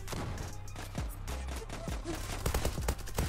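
Quick bursts of Glock 18 pistol fire sound in the video game Zula, sharp clustered shots over a steady low game hum, fairly quiet overall with a denser flurry near the end.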